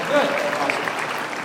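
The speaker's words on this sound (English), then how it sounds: "applause if we like the pace" Audience applause at a Launch 2012 startup presentation, a short burst of steady clapping with a voice speaking over it.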